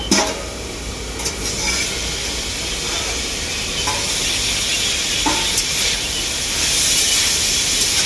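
Vegetables frying in a covered pan, a steady broad hiss and sizzle running continuously at moderate loudness, with a few faint clinks near the start.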